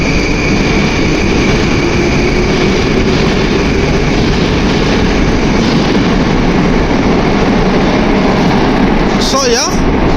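A Moscow metro train runs with a loud, steady roar and rumble of wheels on rails filling the whole stretch, a brief squeal rising near the end.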